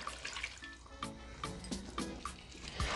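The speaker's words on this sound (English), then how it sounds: "We're gonna add another quarter cup of water." A quarter cup of water poured into a pot of spicy curry mutton with garlic potatoes, a soft splashing trickle with small bubbly plops, close and quiet, no speech.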